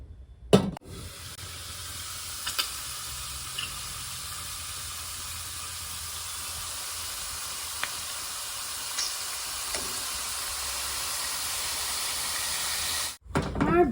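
Bacon cooks slowly in a pan over lower heat, a steady soft sizzling hiss that holds evenly for many seconds, with a few faint clicks and knocks at the start and end.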